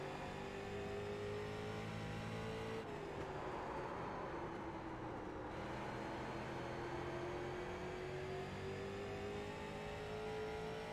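Race car engines on track in iRacing at Southern National Motorsports Park, a steady droning engine note rising and falling gently with gear and throttle, continuous and fairly faint, no talk.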